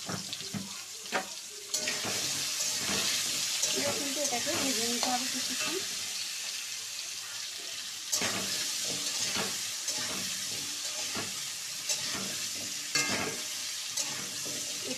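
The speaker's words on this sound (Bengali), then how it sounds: "দেখো তেল কিন্তু একদম গরম হয়ে গেছে এবার এর মধ্যে আমড়াগুলো দিয়ে দেবো" Hog plums (amra) fry in hot oil for a sweet-sour pickle, giving a loud, sustained crackling sizzle with frequent sharp stirring clicks and pops close by, and a short burst of mid-range noise partway through.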